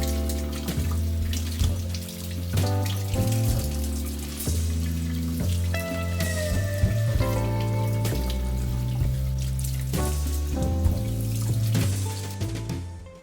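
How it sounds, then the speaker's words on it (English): Sliced leeks are rinsed under a running kitchen tap, a loud continuous gush of water into a sink that changes pitch as the leeks shift in the stream, with no voices. "we're going to rinse them under some water until they come clean."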